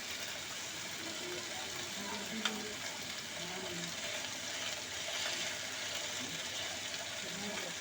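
Kagsha fish fries in a pan with a steady, close, continuous sizzle and hiss, a single brief tap partway through, while someone talks over it.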